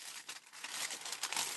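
Greaseproof paper crinkles and rustles continuously up close, with dense crackly bursts throughout and no voices.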